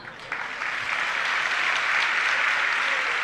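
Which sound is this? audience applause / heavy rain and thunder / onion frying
audience applause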